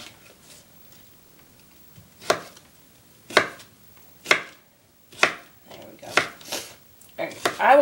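A knife chops through a cucumber on a cutting board: about seven crisp, close thuds, spaced a second apart at first, then quickening into a flurry at the end.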